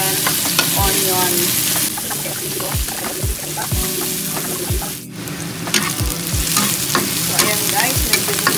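Garlic and onion fry in a pan, a steady close sizzle with intermittent stirring scrapes and clinks of a utensil, continuous and fairly loud with no talking.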